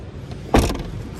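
The cargo storage compartment of a 2011 Toyota Prius is shut and locked with a single short thud and clunk, close and fairly loud against quiet surroundings.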